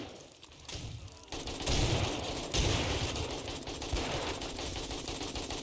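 Rapid gunfire in the 7 Days to Die survival game, with dense, loud volleys of shots piling up continuously during a defensive fight.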